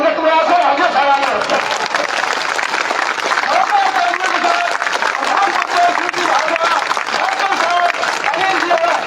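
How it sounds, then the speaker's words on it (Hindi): Dense, sustained applause from a crowd at a political rally in Bhadi, steady and loud across the whole span, with a voice speaking over the clapping throughout. "अब भाई ताली तो बजानी पड़ेगी"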